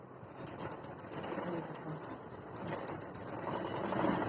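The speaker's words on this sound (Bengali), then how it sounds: "এটা উল্টিয়ে সেলাই দিয়ে নেব" A sewing machine runs steadily while stitching a shoulder joint on a garment, a continuous fast whir at moderate level with no speech.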